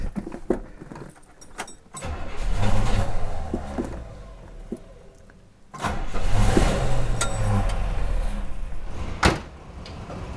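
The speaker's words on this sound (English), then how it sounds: "And the car should start strong." A Buick Riviera's engine cranks and fires up, preceded by door and key handling sounds; the engine catches with a loud burst around the middle and settles into a close, steady idle with a few sharp clunks.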